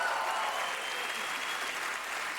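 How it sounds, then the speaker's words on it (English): A comedy festival audience claps in a brief, even burst of applause, steady and moderately loud throughout with no voices over it. "Oh, it's all right, you can clap."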